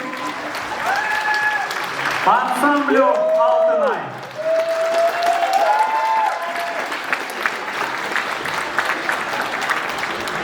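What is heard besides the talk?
applause for the ensemble Altynai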